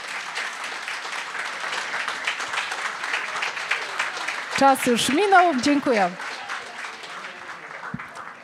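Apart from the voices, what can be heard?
audience applause after a talk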